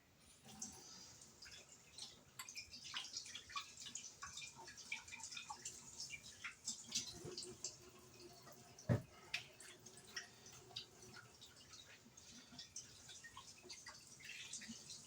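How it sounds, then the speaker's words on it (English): Hands are washed under a running tap, with soft trickling water and scattered drips and splashes, quiet and close, with no talk. "I need to wash my hand."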